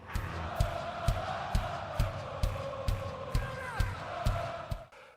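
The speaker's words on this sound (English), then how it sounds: "He just sang over the crowd singing the guitar parts" A big concert crowd at a live show sings a song's guitar riff in unison. Loud, sustained massed voices ride over a steady pounding beat of regular thumps.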